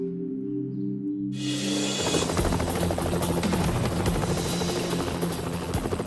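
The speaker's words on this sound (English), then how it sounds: "the Missing Persons Unit, the AGL Action Rescue Chopper, and SES volunteers have started an extensive search for Stuart Gatehouse" A rescue helicopter flying over Queensland hinterland during a missing person search, its rotor chop rising in abruptly after a quieter start and then thumping loud and steady.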